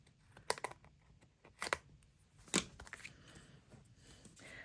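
Scissors trim excess card pieces from a die-cut background layer for card making, giving a few crisp, close snips spaced about a second apart with quiet handling sounds between.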